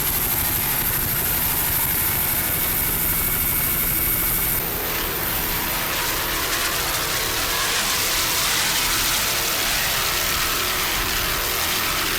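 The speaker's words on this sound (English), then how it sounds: "Nice throttling there by Ron Umlatt." A 40-foot Hustler offshore powerboat races across rough water on Lake Michigan during a 1997 offshore race, its engines a loud, continuous roar with a broad wind-like rush that brightens and swells partway through.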